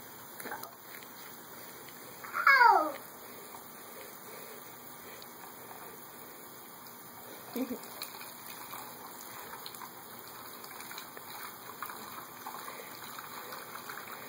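Water splashes and gushes in bursts over a steady outdoor hiss, with a brief child's cry near the start.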